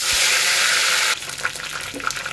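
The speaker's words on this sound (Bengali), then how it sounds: "এবার এই কারি পাতাগুলো জল চিপে ভেজে নিচ্ছি।" Curry leaves, squeezed of water, are dropped into hot oil for a crispy potato fry, setting off a loud, hissing sizzle that abruptly quiets into softer crackles and spits.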